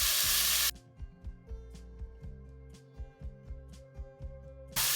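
Mince browning in a hot pan for an Indian cottage pie, with a loud sizzling hiss at the start and again at the end and a quieter stretch of soft knocks between.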